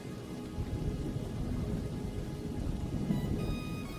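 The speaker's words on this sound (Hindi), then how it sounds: "आसमान में बिजली कड़कने लगती है। कुछ ही देर में मूसलाधार बारिश शुरू हो जाती है।" A cartoon thunderstorm plays with steady heavy rain hissing throughout and low rumbling thunder rolling underneath, no voices.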